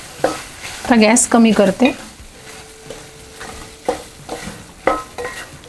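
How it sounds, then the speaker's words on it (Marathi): Crumbled paneer stirred and fried in a pan for paneer bhurji, sizzling steadily with scraping spoon strokes, while someone speaks briefly at the start. "आता या स्टेजला मी याच्यामध्ये पनीर ॲड करते."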